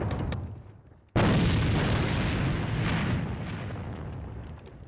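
Grenade exploding in AVA, a sudden loud blast after a moment of quieter game noise, then a long rumbling decay that slowly fades.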